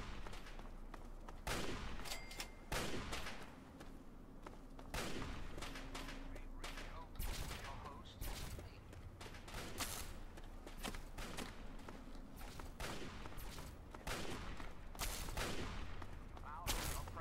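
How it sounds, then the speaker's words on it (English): Shotgun or rifle fire in the video game Fallout 3, a steady stream of sharp, fairly distant reports at irregular intervals throughout, with no talk over it. "Can hear a shotgun. Or some kind of rifle."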